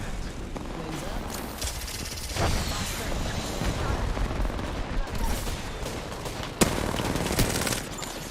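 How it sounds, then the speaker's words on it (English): Rapid bursts of video game gunfire crackle back and forth, dense volleys with a sharper, louder shot near the end, under a steady layer of in-game combat noise. "Shots fired at me."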